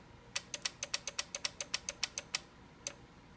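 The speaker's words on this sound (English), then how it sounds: "Just a nice clicking sound when I hit the power." A rapid series of sharp mechanical clicks from a faulty KitchenAid stand mixer as its power is switched on, about a dozen in quick steady rhythm, then a short pause and one last click, close and quiet otherwise.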